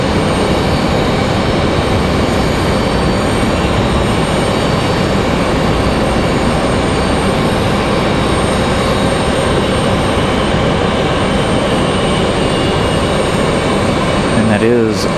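A Sun Country airliner in Tide Pod livery comes in to land at Raleigh-Durham airport in stormy weather, a loud, steady engine roar that holds throughout, with a voice briefly heard.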